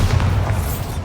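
A Bombarda explosion spell fired in the video game Hogwarts Legacy, a loud, dense low boom that rumbles steadily for about a second.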